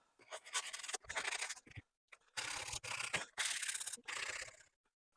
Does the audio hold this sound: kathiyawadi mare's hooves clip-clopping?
no